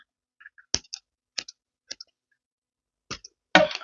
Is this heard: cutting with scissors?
yes